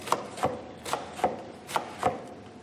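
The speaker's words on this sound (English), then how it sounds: "And I cut it in little thin strips." Knife cutting peeled eggplant into thin strips for ratatouille, five crisp chops landing at an even, steady rhythm on a board, close and clear with no talk.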